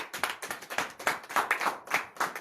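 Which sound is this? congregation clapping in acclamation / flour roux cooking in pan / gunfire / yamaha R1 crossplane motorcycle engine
congregation clapping in acclamation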